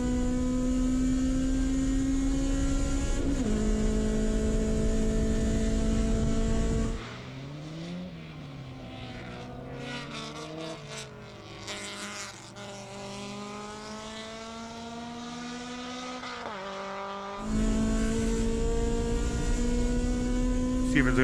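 A time-attack race car laps New Jersey Motorsports Park alone on track, its engine holding a steady, loud drone before dropping into a lower, wavering pass mid-lap and then surging back to a strong sustained note.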